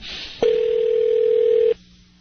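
A steady telephone line tone on a prank call, sounding as one loud unbroken hum of about a second and a quarter after a brief click, with faint line hiss before and after.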